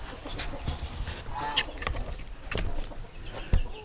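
Hens in a backyard chicken coop give scattered clucks and squawks, a few sharper calls standing out over a steady low rustle, fairly close with no talking.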